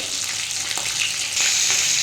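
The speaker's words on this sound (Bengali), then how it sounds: "মাছটা আমার এক পিঠ ভাজা হয়ে গেছে আর এক পিঠ ভেজে নেবো" The second side of a katla fish sizzles in hot oil, a short, close, steady hiss that grows slightly louder and brighter near the end, with no talking.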